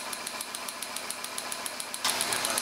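An engine idles during a running compression test, giving a steady rapid ticking pulse close by, then a louder, harsher running noise cuts in near the end.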